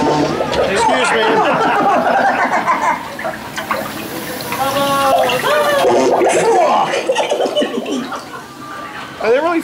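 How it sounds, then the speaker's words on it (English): Wet, gurgling farting and pooping effects with flushing water play on the Brer Rabbit Rap Party dark ride at Oakwood Theme Park in Wales. Riders laugh and chatter loudly over the sounds as the car moves. "Are they really farting and pooping?"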